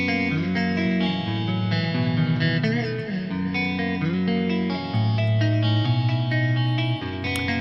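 Heavily processed electric guitar patch from a metal mix, sustained distorted chords with a short delay and moderate reverb adding a chorus-like shimmer, played alone and loud with chord changes every couple of seconds.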